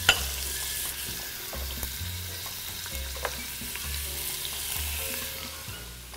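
Onions frying in a pan in a home kitchen, a soft continuous sizzle with occasional light stirring taps and scrapes, fairly quiet and close, no voices.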